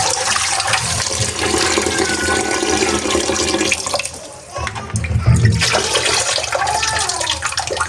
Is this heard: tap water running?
yes